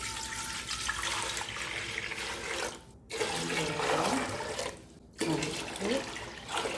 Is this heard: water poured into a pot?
yes